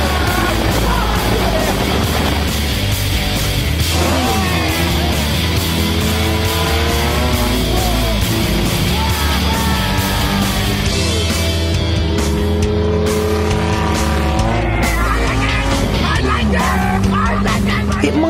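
The Sumo 2 car hoons hard at night, its engine screaming continuously at high revs while tires squeal and skid in long wavering cries, loud and unbroken, with faint yelling mixed in.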